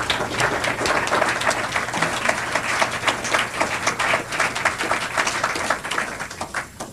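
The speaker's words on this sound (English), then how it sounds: "they're clapping for themselves." After a panel debate on China's economy, a room of people claps steadily for several seconds. The applause is dense and continuous, holding an even level throughout.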